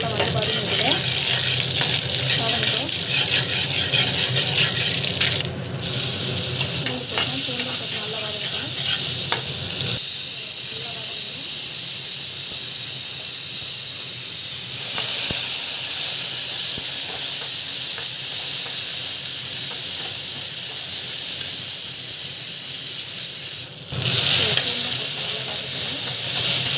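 Chana dal and spices frying in hot oil in a pan for a vegetable stir-fry, a loud, steady close sizzle and hiss with occasional stirring scrapes running throughout, no voices.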